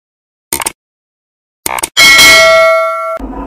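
A notification bell sound effect: two short clicking taps, then a bright metallic bell chime that rings out clearly for about a second before cutting off into a soft tail.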